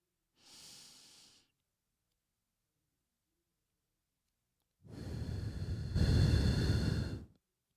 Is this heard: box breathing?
yes